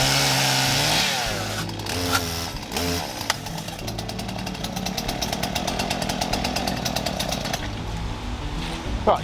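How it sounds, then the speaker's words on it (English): A brand new small chainsaw cutting into priceless timber in a boatbuilding workshop, loud buzzing engine roar that revs and bogs down steadily, close up, with no talk. "And that's my new baby chainsaw."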